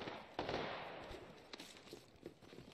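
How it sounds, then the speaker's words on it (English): Faint gunshots crack from an enemy firing out of a building uphill in a shooter game, a handful of scattered distant pops over a low ambient rumble. "that guy's still in that building up top shooting"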